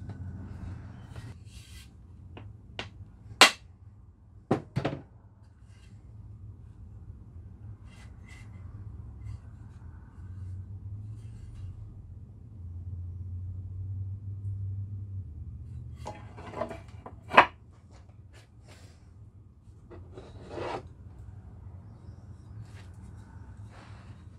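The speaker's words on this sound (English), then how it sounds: "drive that on a little bit with a mallet." A mallet drives a modified hatchet head onto a hand-carved honey locust handle, giving a few sharp, separated knocks in small clusters over a quiet room background.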